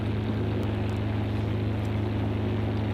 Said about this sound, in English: That sounds more like a tractor.